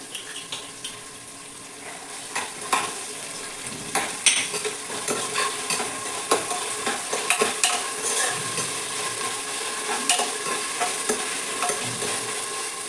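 Chopped mint with ginger garlic paste sizzles in a pan while a spoon stirs and scrapes in quick repeated strokes, close and steady over a constant frying hiss.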